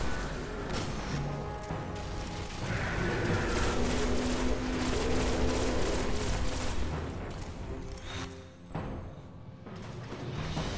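Machine gun fire in the video game Destiny rattles in sustained rapid bursts, loud and dense, with crashes mixed in and a brief lull near the end.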